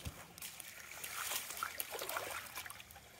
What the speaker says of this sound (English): but that water is flowing a little hard today